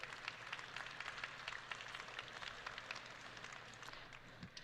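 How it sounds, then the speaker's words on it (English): Distant crowd applause for Matt Schlapp's family at a political gathering, a faint, steady patter of many hands clapping throughout. "Would you give them a round of applause for me too"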